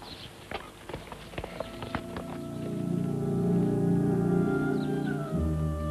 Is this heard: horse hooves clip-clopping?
yes